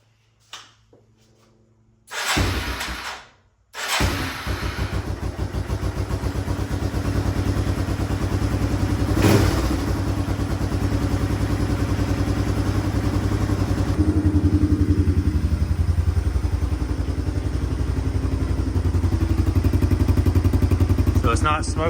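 A Yamaha Timberwolf ATV engine cranks with a couple of loud bursts, catches, then settles into a steady, close mid-pitched idle that runs continuously, with a sharp clatter partway through.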